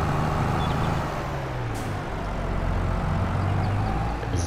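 Tractor hauling an attached implement pulls away toward the field in Farming Simulator 22, a steady low engine rumble with shifting drone and a brief hiss, close and continuous without speech.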